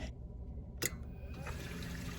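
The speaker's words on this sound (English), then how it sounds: "Water leaked all over because it's coming out way fast." Water rushes steadily out of a Precision Temp TwinTemp Junior water heater being drained, a continuous close hiss-like flow after a brief sharp knock.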